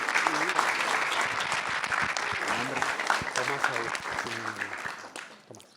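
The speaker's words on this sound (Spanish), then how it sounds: "Un aplauso especialmente para Micaela." Audience applause for Micaela at a Freemasonry ceremony in Argentina honouring ITBA champions: dense, sustained clapping from a crowd, with a voice talking over it, tapering off toward the end.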